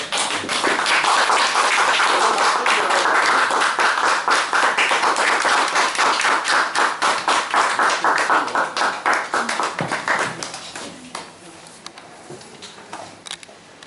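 Audience applause at a small library opening and agreement signing ceremony, dense and loud clapping that gradually thins into scattered individual claps and a few taps as it fades out.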